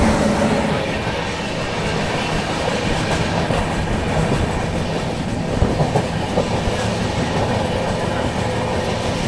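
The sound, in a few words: Dakshin SF Express train running on rails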